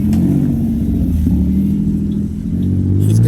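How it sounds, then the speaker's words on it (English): A car revving at a cruise night car meet in Draper, Utah, its engine droning loud and continuous with shifting pitch as it climbs and settles, no voices over it. "Oh, somebody's already revving over there."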